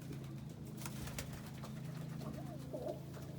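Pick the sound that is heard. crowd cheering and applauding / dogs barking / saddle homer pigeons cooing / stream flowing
saddle homer pigeons cooing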